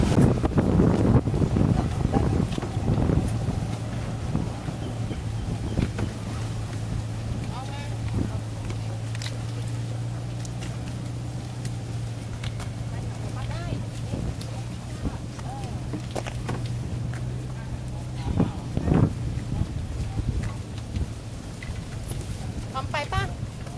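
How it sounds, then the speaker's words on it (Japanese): A boat engine hums steadily during a ride at Amphawa floating market in Thailand, accompanied by rushing wind noise across the microphone and scattered people talking throughout. "さあこのボートでーす。"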